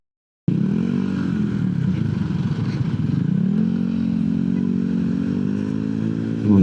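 Motorcycle engines drone steadily nearby in congested traffic, a rough buzzing hum that swells and shifts pitch as bikes creep along a jammed road in Tangerang Selatan.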